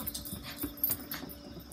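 Soft, close whimpering and panting from a puppy during play, faint broken whines in short bursts over a quiet background.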